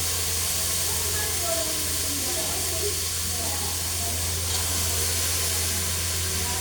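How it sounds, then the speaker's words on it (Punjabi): Finely chopped pumpkin (chappan kaddu) added to a pan of cooked spices for a sabzi, giving a steady, close, hissing sizzle that continues evenly throughout with a low background hum. "ਇਹ ਆਪਣੇ ਹੈਗੇ ਚੱਪਣ ਕੱਦੂ ਬਰੀਕ ਬਰੀਕ ਕੱਟੇ ਹੋਏ ਇਹ ਵੀ ਆਪਾਂ ਵਿੱਚ ਪਾ ਦਾਂਗੇ"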